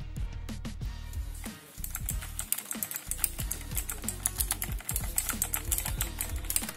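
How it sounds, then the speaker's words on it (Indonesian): Rapid, steady typing on an Ajazz AK33 Frost Blue mechanical keyboard with blue switches, giving a dense stream of close, crisp clicky keystrokes with no talk over them. "ini dia suara switch dari keyboard Ajas AK33 Frost Blue."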